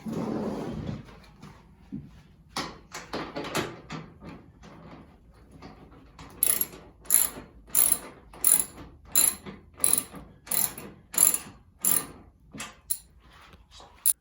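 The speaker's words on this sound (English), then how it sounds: "What you're going to need now is a 1/2 inch socket, and just go around and tighten them up." A 1/2 inch socket wrench ratcheting as it tightens the assembly bolts on a poly wheelbarrow, with a few handling knocks at first, then a series of crisp, evenly spaced ratchet clicks in short bursts, close up.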